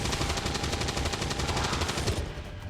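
A soldier's weapon in XCOM 2 fires a loud, continuous rapid-fire burst of closely spaced shots, then cuts off abruptly near the end.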